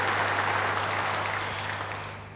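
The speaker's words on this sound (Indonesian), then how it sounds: "Beri tepuk tangan yang baik buat dia." A church congregation claps and cheers together, a dense wash of applause that holds steady and then fades out toward the end, with no voices over it.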